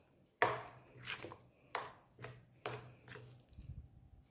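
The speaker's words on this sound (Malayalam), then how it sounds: "എല്ലാം കൂടെ നന്നായിട്ടൊന്ന് മിക്സ് ചെയ്തെടുക്കാം." Oats omelette batter with olive oil being mixed in a bowl, heard as a handful of close, distinct scraping and clacking strokes with short pauses between them, no voices.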